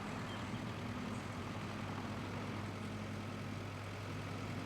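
A tractor engine idles in the Farming Simulator 22 video game, a steady low rumbling drone with a faint higher hum, constant and unbroken throughout.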